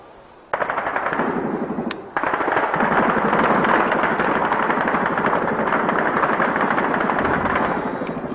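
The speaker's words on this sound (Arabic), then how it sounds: "رصاص زبداني 5/6." Loud, sustained automatic gunfire in Zabadani, Syria, in 2012: rapid continuous bursts that kick in after a brief pause and hammer on without letup.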